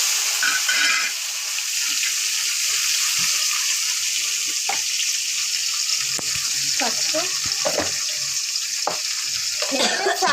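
Onion and tomato fry steadily in a pan with a broad, continuous sizzle, broken by occasional stirring scrapes and soft clinks near the end.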